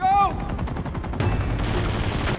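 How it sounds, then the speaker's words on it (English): Loud, sustained machine gun fire from a helicopter in the video game Uncharted 2, dense rapid bursts running the full length with a sharp tonal cry at the start. "what a lot of gunfire from that chopper"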